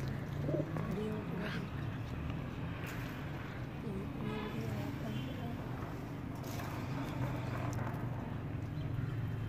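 Pigeons in a Pakistani pigeon-club loft coo softly in repeated low phrases. Steady ambient noise sits underneath, and other birds chirp faintly now and then.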